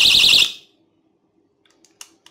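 A cheap Chinese door alarm blares a loud, harsh pulsing siren for about half a second, then cuts off, leaving faint clicks and handling taps.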